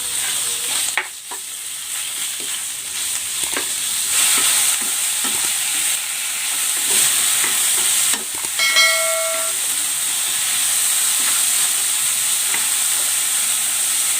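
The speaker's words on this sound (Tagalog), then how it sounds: "Igigisa ko na dito itong pork." Pork sautéing with onion in a hot pan, a steady loud sizzle running throughout with scraping stirs and utensil clinks, no voices.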